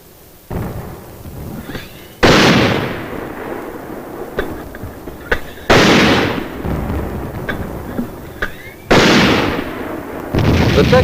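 Mortar fire directed by an aerial observer onto enemy positions, heard as a series of heavy booming blasts at intervals, each with a broad rumbling roar and tail, loud and without speech.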